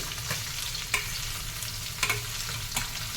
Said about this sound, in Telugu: ఇలా మీడియం ఫ్లేమ్లో పెట్టుకొని మధ్య మధ్యలో కలుపుకుంటూ ఉండాలండి